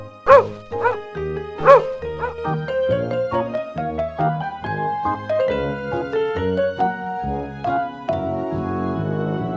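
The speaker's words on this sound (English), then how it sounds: "Dog." A dog barks twice in quick succession near the start, then a bright, cheerful children's tune carries on alone as part of a simple farm-animal word card matching game.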